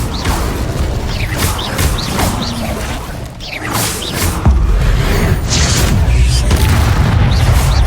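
Incendio fire spell cast in the game Hogwarts Legacy: loud layered booms, whooshes and crackling bursts of magical fire in quick succession, building into a sustained heavy roar, with no speech.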